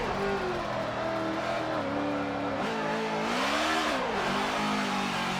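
NASCAR stock car in a racing video game at the Long Beach street circuit, its engine droning loudly and continuously with pitch rising and falling as the throttle is worked through corners.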